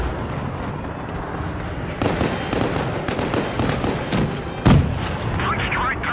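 Tank cannon shots boom in the video game Mad Games, with several heavy blasts and one sharp, loud shot near the end over rumbling battle noise and someone talking.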